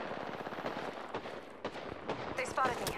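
Rapid gunfire crackles during an Apex Legends firefight: quick bursts of shots at moderate distance, mixed with game effects and a short chirping tone near the end.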